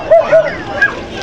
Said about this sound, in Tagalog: Kaya may aso, golden retriever.